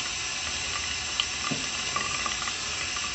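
Water running steadily from an indoor tap, a continuous close hiss and splash with faint clinks over the top.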